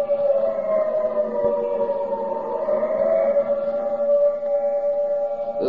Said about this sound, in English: The siren is a musician of no value, knowing only one tune, which each time played is a disturbance of the peace.